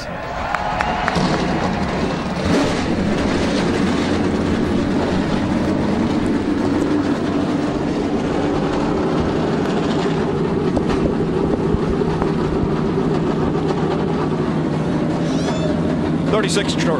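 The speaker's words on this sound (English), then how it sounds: "35 trucks have come to life now on the grid." Thirty-five NASCAR Camping World Truck Series trucks fire up on the grid at Martinsville, a loud continuous low engine rumble with idling roar held steady throughout, crowd and announcer sound mixed in.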